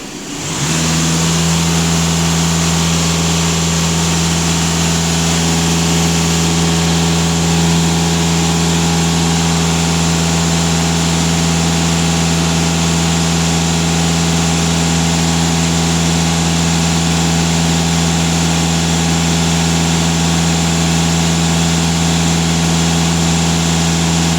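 Volkswagen Passat B8 engine, nearly warmed up, running steadily at raised revs with a constant droning hum and strong low tones, close and even throughout with no talk.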